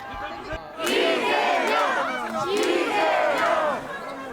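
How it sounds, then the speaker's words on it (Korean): Political supporters in a traditional market cheer and chant loudly in unison as Lee Jae-myung arrives, the shouting swelling in two rising waves. "지지자들이 환호합니다"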